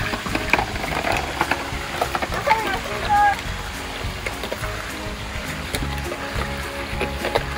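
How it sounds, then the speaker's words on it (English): Small toy car with paddle-wheel tires churns and splashes through a shallow stream, a steady watery wash with scattered splashes, close to the mic, with voices talking over it. "It's got paddles on the wheels so it can kind of swim a little bit."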